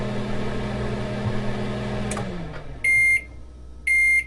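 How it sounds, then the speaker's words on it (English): A steady microwave hum runs with a faint click, then winds down and stops, followed by two loud, long electronic beeps with a short gap between them. "this is what a microwave sounds like"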